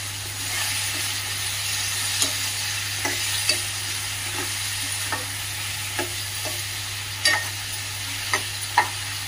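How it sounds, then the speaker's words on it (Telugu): Chicken pieces fry in hot oil for a green chicken curry, a steady close sizzle broken by scattered scrapes and clinks of a spoon stirring in the pan. "చికెన్ కూడా వేసేసుకుంటాను. మంచిగా కలిపేసుకోవాలి."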